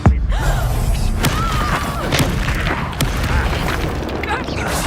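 Spell explosions in Hogwarts Legacy, loud booms and thuds opening sharply and recurring amid constant game combat noise.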